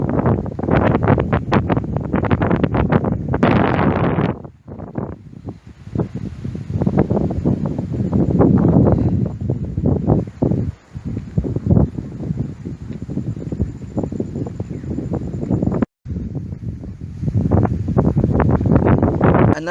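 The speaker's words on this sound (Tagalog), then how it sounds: "I'll show you a short clip of how windy it was" Strong wind buffets a tent in long, roaring gusts that batter the microphone, broken by a couple of brief lulls.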